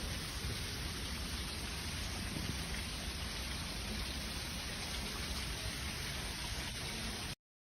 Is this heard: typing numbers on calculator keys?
no